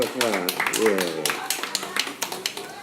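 A voice speaks briefly, then a group claps in quick, irregular bursts that grow steadier and fill the second half.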